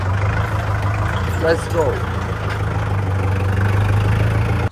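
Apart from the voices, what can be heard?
tractor engine running at a work site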